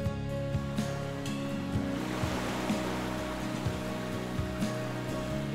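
Ocean surf at the spot where a water supply outflow runs into the sea near Santa Cruz, a steady rushing wash of water with a low tonal hum running beneath and occasional soft splashes.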